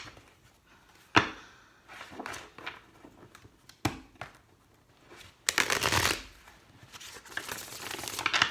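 A deck of tarot cards is shuffled several times, with crisp riffling bursts and sharp taps between quieter handling sounds, close and alone.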